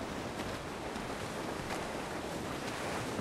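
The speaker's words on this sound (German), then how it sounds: "Es weht ein steifer Wind." Wind and waves rush past a schooner under sail in the video game Assassin's Creed 4 Black Flag, a continuous broad whoosh of gusting air and surf that is steady and fairly soft, with no voices.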